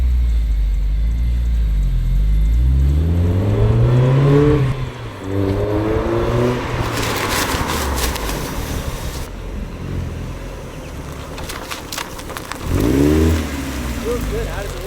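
A widebody Mazda Miata revs hard, the engine note climbing in repeated surges before tire-spinning hiss and roar take over, then another rev near the end; people talk over the car.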